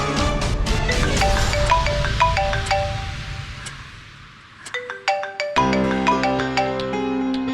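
A mobile phone plays a melodic ringtone for an incoming call from a mother. Bright, repeating electronic tones ring out clearly with no talk, pause briefly midway, then resume with a new phrase.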